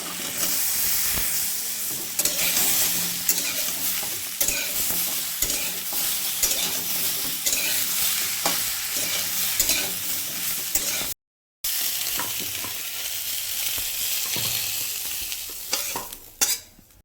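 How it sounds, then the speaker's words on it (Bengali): Sweet potato stirred as it fries in a pan for sukto, a steady loud sizzle with scraping stirs throughout, broken by a brief gap near the end. "দিলাম মিষ্টি আলু হ্যাঁ মিষ্টি আলু একটু নাড়াচাড়া করবো"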